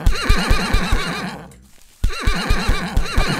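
Horses in the Minecraft-like game MineClone2 whinny loudly and close up, two long neighing calls with a short silent gap between them and no talking.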